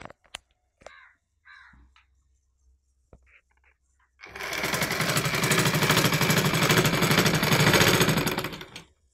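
Sewing machine stitching lace onto a saree border, running loud and steady for about five seconds after a quieter stretch of faint clicks and handling noises.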